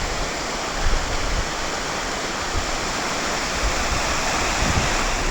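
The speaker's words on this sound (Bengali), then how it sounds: "ওই যে ওইটা হচ্ছে ঝর্ণা" Waterfall on the Napittachora trail pours in a steady, dense roar that fills the air evenly and continuously, close and loud with no voices.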